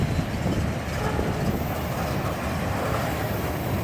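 A freight train passes close by as a loud, steady broadband roar and rumble that holds for several seconds with no voices over it.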